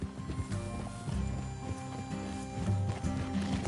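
Horse hooves clip-clop steadily in a Western video game, with a busy, continuous layer of game sound and music around the fairly close plodding steps.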